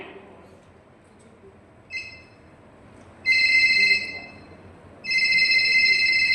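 A telephone rings with a bright electronic ringtone in two sustained bursts after a quiet start, with faint voices in the background.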